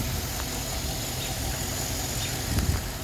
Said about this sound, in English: You can actually hear my fuel injectors fire.